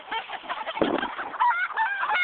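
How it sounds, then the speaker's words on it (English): A nearby rooster squawks and honks in rough, repeated calls, fairly loud and continuous, with no talking. "She's got roosters, funny looking ones."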